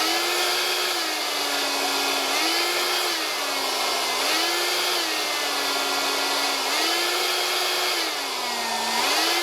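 A small electric motor runs steadily on solar panel power, a loud continuous whine with a clear tone that sags and recovers in a regular slow cycle as the power dips and returns.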